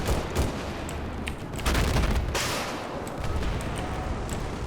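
AK-12 assault rifle fired in short bursts in Battlefield 4, several rapid cracking volleys a few seconds apart with a loud, close, sharp attack over a steady background of game noise.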